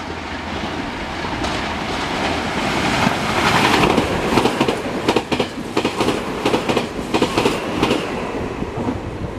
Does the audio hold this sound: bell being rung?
no